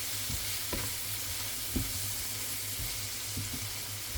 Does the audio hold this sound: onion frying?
yes